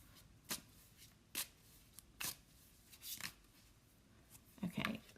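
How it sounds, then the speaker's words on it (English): Cards are shuffled close up in sharp riffling bursts, about six quick flurries spaced roughly a second apart against near silence. "I'm shuffling right in front of the microphone."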